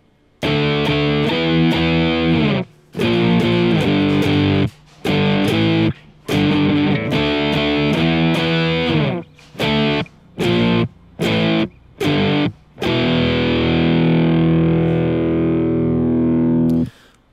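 A heavily distorted electric guitar plays a riff of chugging chords split by sharp stops, ending on a long ringing chord that fades out.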